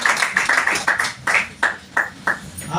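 A small audience at an Ayurvedic product training session claps in short, uneven bursts, with about eight distinct sharp hits spread over a few seconds and no talking.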